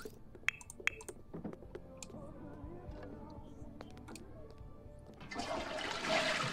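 Toilet flush in The Sims 4, a rushing swell of water building loudly over the last second, preceded by scattered game clicks and small taps.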